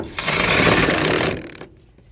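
An impact or power tool tightens bolts into aluminum during a belt tensioner replacement on a Nissan Cube, Sentra or Versa, a loud close rattling burst of about a second that drops off into quiet.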